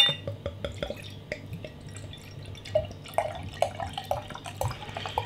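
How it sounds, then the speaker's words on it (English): Barleywine beer poured vigorously into a glass: a steady run of close, bright drips and splashes with faint glassy clinks, getting busier toward the end and heard alone. "Giving it a bit of a rigorous pour to try and create some kind of head there."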